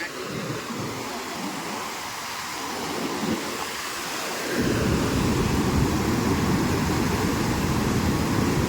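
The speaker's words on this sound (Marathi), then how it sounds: "पाण्याला प्रेशर भरपूर आलंय." High-pressure floodwater rushes continuously in a broad roar during heavy rain, growing louder and fuller partway through, with no voices over it.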